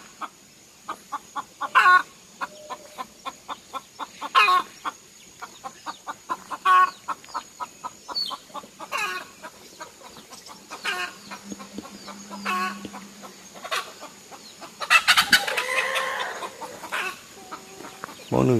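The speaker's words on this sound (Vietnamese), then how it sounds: "bố nuôi gà rất là nhiều" Chickens cluck in quick repeated bursts around an elderly Cơ Tu man's hut in the forest, the clucks near and steady throughout, with a louder rooster call breaking in toward the end.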